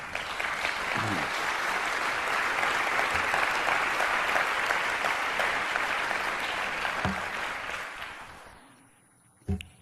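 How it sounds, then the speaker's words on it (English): Sustained applause from a town hall audience after a speech fills a large room for about eight seconds, then gradually thins out and fades away, with one sharp sound just after it dies down. "hold your applause. No, applaud more."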